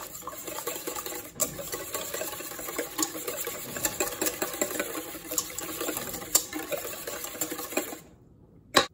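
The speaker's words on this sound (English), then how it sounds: "Mix it together." Zucchini bread batter being stirred by hand in a bowl, a steady run of close wet scraping and slapping strokes with no voices, ending abruptly near the close.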